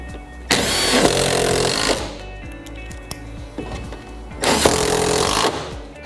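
A power driver runs a screw into a plastic Echo portable toilet in two loud whirring bursts, each lasting about a second and a half, with clattering handling noise between them.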